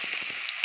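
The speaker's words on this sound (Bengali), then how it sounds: "আলুগুলো ভেজে নিচ্ছে।" Potatoes frying in hot oil in a wok give a bright, crackling sizzle with rapid popping spatters, close and steady for a brief moment.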